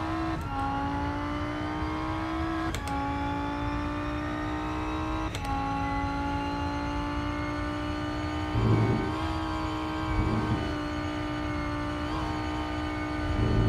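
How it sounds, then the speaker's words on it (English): Audi race car in Rennsport running hard, its engine note holding high then dropping at quick shift clicks, with several downshift blips and pops near the end; loud and continuous, no voices. "The downshift sounds a bit weird in the Audi, though."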